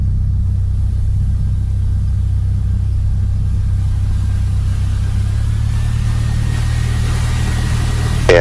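Small propeller plane engine droning steadily while taxiing for a first passenger flight, a loud continuous low rumble that holds even throughout, with a slight rise right at the end.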